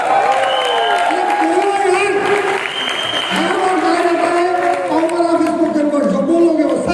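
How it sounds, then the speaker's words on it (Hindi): An audience claps loudly and steadily throughout a goal-setting training event in Goa, dense sustained applause with a few cheers and the crowd's vocal noise mixed in. "जोरदार ताली।"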